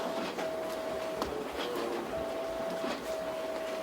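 Office printer running in a town selectmen's meeting room in Ossipee, New Hampshire, giving a steady mechanical whir with a faint intermittent tone, fairly distant under room noise with no clear speech.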